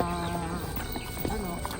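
Horse hooves clip-clop in a rapid irregular patter at moderate level, with a brief whinny and people talking over a steady background hum.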